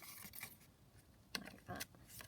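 Scissors trimming paper for a children's book craft with flower pockets, a few brief close snips and rustles, fairly quiet.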